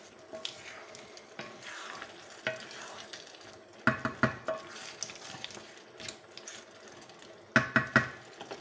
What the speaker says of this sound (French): mes petites moules. Voilà, je remue.